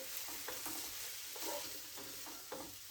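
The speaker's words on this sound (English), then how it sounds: "give it a stir." A spoon stirs curry in a hot pan after soy sauce goes in, for a king prawn, pineapple and coconut curry, soft scraping strokes at a slow rhythm over a constant quiet sizzle.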